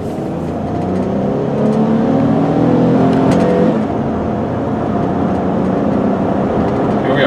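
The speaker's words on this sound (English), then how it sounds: "I'll really step on the gas here so you can see it shift good." A 2005 Dodge Grand Caravan SXT minivan accelerating hard, its engine climbing steadily in pitch through the gears with a noticeable shift partway through, loud and continuous from inside the cabin.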